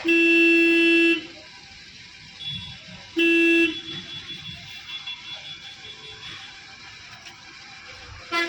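A car horn gives two steady, loud honks about two seconds apart while a learner driver creeps through bumper-to-bumper traffic, followed by quieter engine and street noise.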